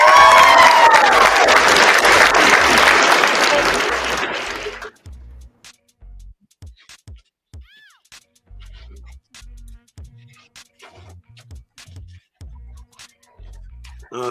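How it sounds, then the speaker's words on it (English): A live audience applauds and cheers loudly for a performer, a dense roar of clapping and voices that fades out after about five seconds, leaving sparse faint taps and knocks. "Give her a hand clap, please."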